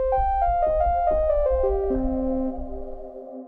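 Bitwig polysynth with ping pong delay, playing a short run of bright synth notes that echo and then settle into a sustained, spacey tone that fades out, with no talking.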